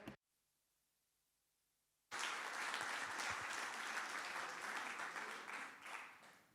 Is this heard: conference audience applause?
yes